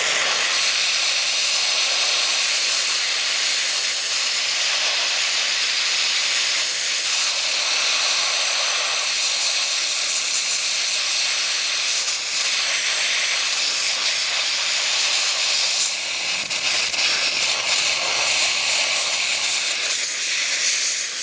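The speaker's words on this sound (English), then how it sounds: "I want you to see exactly what's happening with the steamer." A steam cleaner blasts high-pressure steam onto brake dust with a loud, continuous, steady hiss that lasts throughout, briefly fluctuating as the spray shifts.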